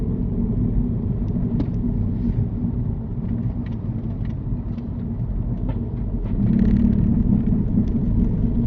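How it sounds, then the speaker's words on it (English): A car engine held in third gear chugs and vibrates while approaching traffic lights, a steady loud low rumble that swells slightly near the end, with no voices. "you just leave it in third in the car, chugging and vibrating as you're approaching the traffic lights"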